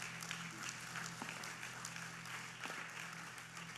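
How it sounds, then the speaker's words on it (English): An audience at a tech conference in Italy applauds, a faint, steady patter of many hands clapping heard from a distance under a low hum. "let's give a big applause"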